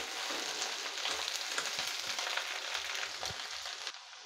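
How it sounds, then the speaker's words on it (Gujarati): Okra (bhindi) sautéing in a pan over a low gas flame gives a steady, close sizzle with faint spatters and occasional soft stirring knocks, no talking. "તો ગેસની ફ્લેમ ધીમી રાખી અને ભીંડો આ રીતે સાંતળી લેવાનો છે"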